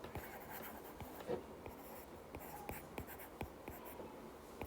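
Chalk or marker writing an equation on a classroom board during a quantum mechanics lecture, heard as scratchy repeated strokes with short taps, fairly close and quiet, with no talk over it.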